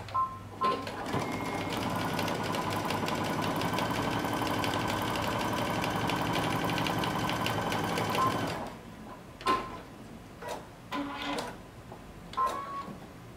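A sewing machine runs a continuous fast-stitching seam on lace sweater knit fabric for about eight seconds, then falls silent apart from a few short clicks and handling taps.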